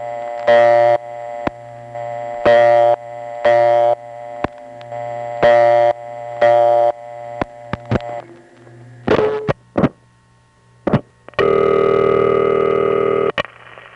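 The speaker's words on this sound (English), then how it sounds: "Instead of being the partial dial signal, it's the vacant code tone." Telephone tones from a No. 1 crossbar exchange: a vacant code tone, steady and harmonic-rich, sounding in repeated short bursts alongside clicks and relay snaps, then a longer sustained tone near the end, close and clear with no talk.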